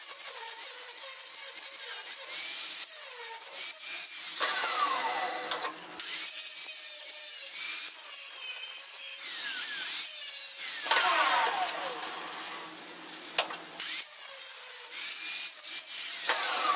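A portable bandsaw cuts steel during a dump trailer welding repair, a continuous close grinding whine and rasp that rises and dips in intensity as the blade works through the metal.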